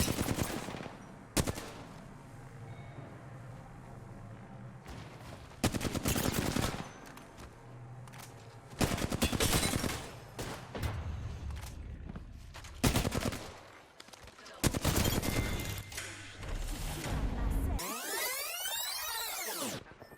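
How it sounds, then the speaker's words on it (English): Repeated bursts of automatic gunfire in Apex Legends, loud and close, with several sustained volleys separated by brief lulls and a sweeping whine near the end. "I'm spotted. Taking fire."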